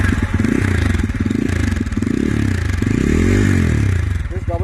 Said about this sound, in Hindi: Let's see how the exhaust sounds for this bike.